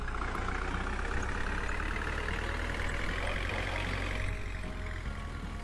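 A truck engine in the PC game American Truck Simulator 2016 drones steadily at close range with a heavy, low rumble and a constant mid-range hum, unbroken for several seconds with no talk.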